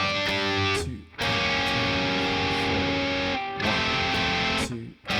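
An electric guitar with a distorted tone plays an intro riff: loud sustained chords in repeated phrases, with brief drops between them, no voice.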